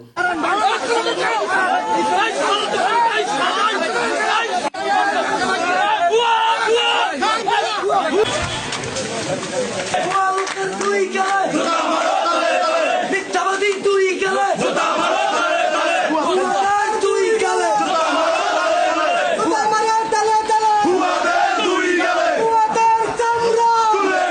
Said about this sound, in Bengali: বিএনপির নেতাকর্মীরা সেখানে বুয়া বুয়া বলে তাকে স্লোগান দিচ্ছিল